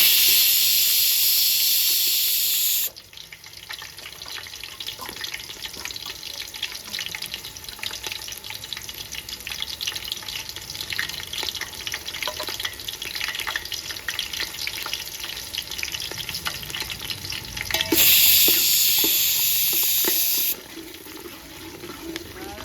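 Onions and green chillies fry in a pan, giving a steady loud sizzle with hissing bursts at the start and again near the end, and occasional small clicks of stirring.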